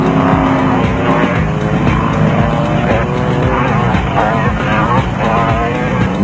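Off-road race vehicles, including a Toyota Land Cruiser and a Jeep Cherokee, roar along a dirt course in a South African desert race. Engines rumble loud and constant, a commentator talks over them, and faint music plays underneath.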